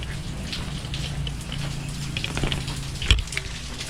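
Steady heavy rain pours down during a typhoon, a dense wash of patter with scattered drops striking nearby and one sharper knock near the end.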